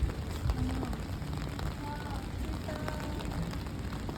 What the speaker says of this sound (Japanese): やはり雨です。